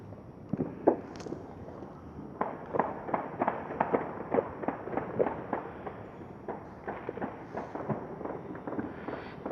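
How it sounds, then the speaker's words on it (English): Gunshots and firecracker-like bangs on New Year's night in Savannah, Georgia, a rapid series of sharp distant reports, some in quick bursts, continuing throughout against a faint night backdrop. "I only hear about 3-4 people that are, firing what I guess are handguns."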